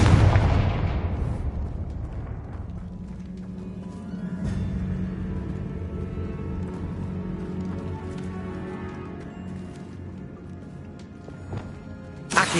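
A Confringo fire spell blasting in Hogwarts Legacy, one loud close explosion that fades into a long rumbling decay over game ambience, with another sharp burst near the end.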